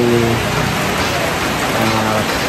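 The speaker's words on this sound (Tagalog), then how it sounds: "Inaabot na kami ng ulan mga kababayan." Heavy rain pours down in a steady, dense hiss without letup, with faint voices murmuring underneath.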